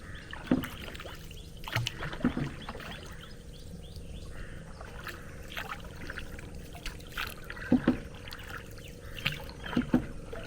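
Oars dipping and splashing as a boat is rowed along the Kerala backwaters in early morning heat, with soft water swishes and a few sharper strokes over a steady outdoor background.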